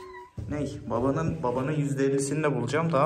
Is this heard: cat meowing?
yes